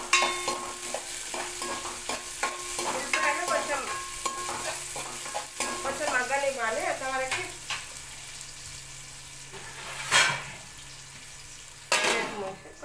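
Onions frying in a pan for a greens-and-moong-dal curry, stirred with scraping strokes over a steady sizzle, with occasional metallic clinks of utensil on pan and brief quiet talk.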